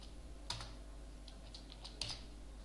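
Computer keyboard keys tapped while C++ code is typed, a few scattered keystrokes in two small clusters over a steady low hum, no voices.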